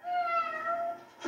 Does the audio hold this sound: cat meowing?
yes